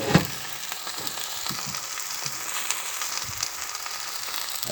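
Steak searing in a pan over high heat gives a steady, close sizzle with a sharp spatter pop at the start and small crackles throughout, with no talking.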